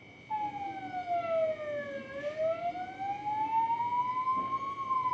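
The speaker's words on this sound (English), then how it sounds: "Have you ever heard an ambulance before?" An ambulance siren wails alone, its tone sliding steadily down, then back up and down again in slow sweeps, loud and fairly close over a faint background hum.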